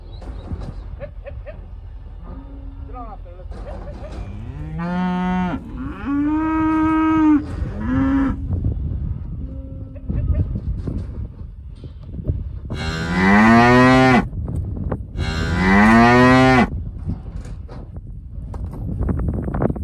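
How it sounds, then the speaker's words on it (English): Cattle and a small bunch of calves coming off near a fence moo loudly and close by, several drawn-out calls rising and falling over wind and shuffling hooves. "watch these cattle come off, and this first little bunch of calves"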